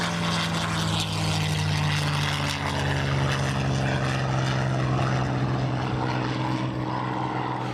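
A WWII P-51 Mustang fighter's piston engine and propeller drone loudly and steadily, a deep throbbing roar held throughout with no voices.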